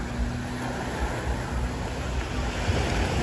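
Surf washing onto a beach in Phuket, Thailand at sunset, a steady broadband rush of waves with some wind buffeting the microphone, continuous and fairly loud with no voices.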